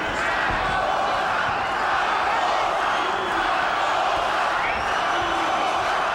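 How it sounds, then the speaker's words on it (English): Boxing crowd in El Paso chanting for Zaragoza, a dense, loud arena roar that swells and rolls continuously from start to finish with no break. "And the crowd chanting Zaragoza"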